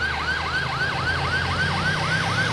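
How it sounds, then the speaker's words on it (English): A wailing emergency vehicle siren from the FiveM driving game cycles up and down in quick, even sweeps over a low engine rumble, loud and continuous. "Flip the siren"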